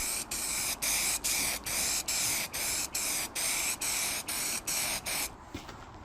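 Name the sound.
spray paint being sprayed onto rust repair on W208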